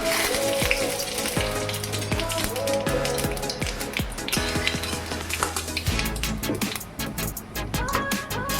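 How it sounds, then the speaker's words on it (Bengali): Black cumin seeds crackle and sizzle steadily in hot oil in a wok, a dense continuous frying hiss with sharp popping taps throughout. "এখন সম্বারের জন্য কড়াই বসিয়ে দিয়েছি তেল দিয়েছি দিব কালো জিরে"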